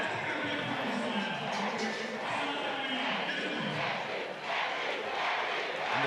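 Stadium crowd at the World Athletics Relays in Botswana roaring for relay runner Liepi, a dense, sustained loud cheer with shouting throughout.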